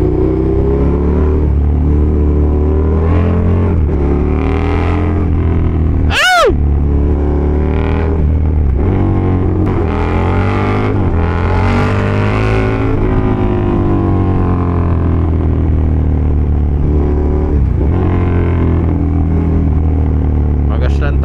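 Loud KTM Super Duke and Kawasaki Z H2 naked motorcycles drone and rev, their engine pitch repeatedly rising and falling over about twenty seconds while people talk over the noise.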